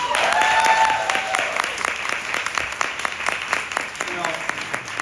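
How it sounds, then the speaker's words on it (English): An audience at a storytelling show applauds the performers in a steady, sustained round of clapping, loud at first and gradually softening, with a brief voice over the opening. "So just give everybody a round of applause."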